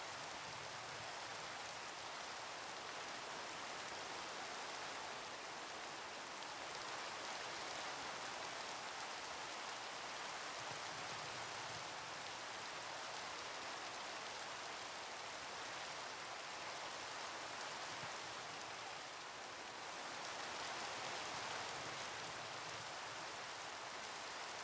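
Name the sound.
rain falling in the video game Minecraft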